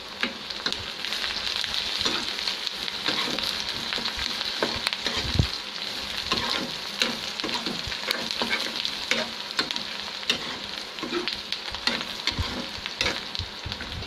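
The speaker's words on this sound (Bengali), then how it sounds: "ভাজা ভাজা হোক" Onions frying in a pan with garlic, ginger and red chili powder, a steady crackling sizzle with occasional scrapes and knocks of stirring.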